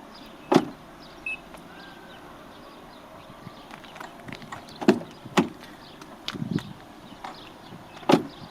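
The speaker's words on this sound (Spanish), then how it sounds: "Sonido de las puertas al abrir y cerrar." Doors on a 2019 Mazda 3 Skyactiv-G 2.0 are opened and shut several times, giving sharp latch clicks and solid thuds spaced apart over a quiet background.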